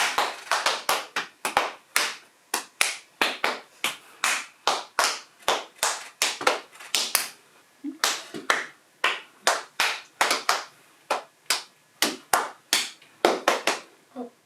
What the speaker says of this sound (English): you can actually put a double clap or a double tap in, and that sends the clap or the tap back in the other direction